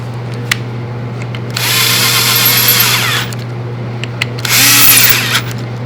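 A power drill drives screws into the bottom rail of a window frame, two loud whirring bursts of about two seconds and one second, separated by quiet with a low steady hum beneath.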